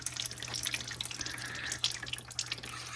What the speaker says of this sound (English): You can see it's dripping.